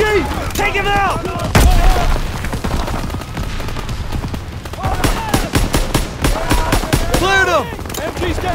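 Machine gun fire in a Call of Duty: WWII battle: loud bursts of rapid gunfire and booming shots pile up in chaotic layers, with shouted voices mixed over the combat.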